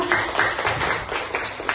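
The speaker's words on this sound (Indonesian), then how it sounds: "Tepuk tangan untuk kita" A group claps together during a school guidance-counseling session on recognizing personal potential, giving a brief, dense patter of hand claps that stays fairly steady and moderately loud.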